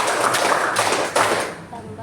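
Several people clap in a classroom clapping game, a few loose, overlapping claps in a reverberant room amid murmured voices.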